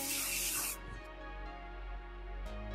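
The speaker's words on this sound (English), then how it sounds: "Little hairspray." Hairspray misted onto a finished short-hair style, a close, loud hissing burst lasting under a second, then quiet with faint background hum.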